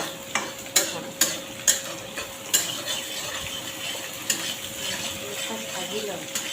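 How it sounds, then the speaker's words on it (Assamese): Spices and onions fry in a pan for a chicken dish, giving a steady close sizzle broken by repeated sharp clinks and scrapes as a utensil stirs them, with no talking. "এই মছলাটো আৰু পিঁয়াজখিনি মই ভাজি লওঁ প্ৰথমতে।"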